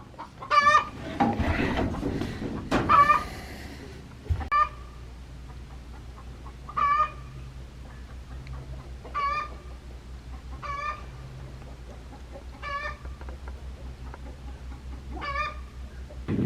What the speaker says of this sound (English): I think those hens are trying to figure out a way to get in there.